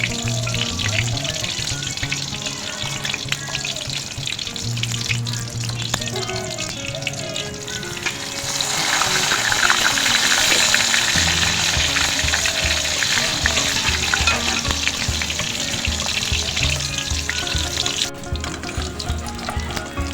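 Surma fish chops made with gourd leaves fry slowly in hot oil, a steady, dense sizzle running throughout at close range, with some clattering and background household noise mixed in.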